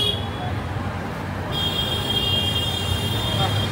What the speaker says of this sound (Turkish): Güzel yollar ama gürültülü bir trafik başlar